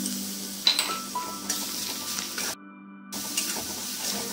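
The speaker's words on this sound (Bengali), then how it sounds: "এবার আদা রসুনের পেস্টটা দিয়ে দেবো।" Ginger garlic paste frying in a pan of lightly browned onions, a soft steady sizzle with a few light stirring clinks and a brief silent gap.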